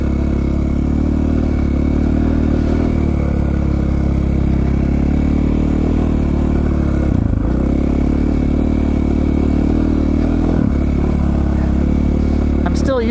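A dirt bike rides through snow in Idaho, its engine droning steadily and close for the whole stretch, with brief dips in power where it strikes hidden obstacles under the snow.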